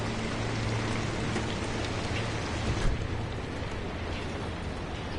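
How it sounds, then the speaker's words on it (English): Steady, heavy rain pours down in a storm in the video game Pacific Drive, a constant dense hiss with a faint rumble of distant thunder in the middle. "Oh, hey, a storm inbound from up there."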